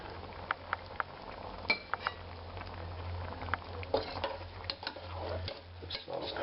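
Meatballs are stirred into sauce in a cooking pot, with scattered light clinks and taps of a utensil against the pot over a soft bubbling simmer.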